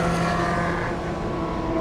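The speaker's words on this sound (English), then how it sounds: "Matt Wrigley in car number 27 there, just coming over the line" A Dallara Oreca prototype race car crossing the line during qualifying at a classic endurance race meeting, its engine a loud sustained droning whine that holds steady throughout, with no voices.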